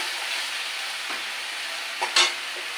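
Spice paste frying in oil in a pan while being stirred, a continuous close sizzle with a couple of brief scraping and knocking strokes near the end.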